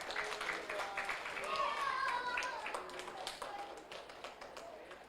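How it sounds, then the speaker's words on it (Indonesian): An audience at a product launch event claps for a photo moment, a moderate patter of hands with scattered sharper taps and talk underneath. "tepuk tangan yang meriah"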